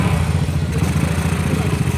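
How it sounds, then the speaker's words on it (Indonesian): Honda CB motorcycle engine revving close by, a loud steady throbbing drone for a couple of seconds. "gebar-geber gini boros nggak motornya?"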